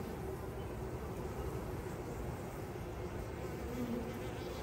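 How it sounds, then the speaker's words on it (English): Honey bees crowd into a new hive at dusk in cold, wet weather, their steady, dense buzzing humming close and continuous throughout, with no voices. "Wonderful moment watching these bees march into this new hive with just almost no assistance from me"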